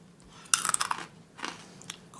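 Crunchy fried corn kernels being chewed up close, a burst of crisp bites followed by a few softer crunches, with no talking.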